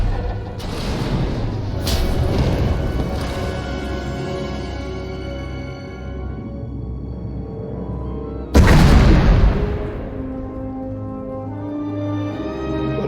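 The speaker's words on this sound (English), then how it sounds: "We heard explosions." Explosions in the Star Wars: The Old Republic game: early booming blasts with rumbling decay, then a sudden loud explosive burst near the end that fades slowly under ambient drone.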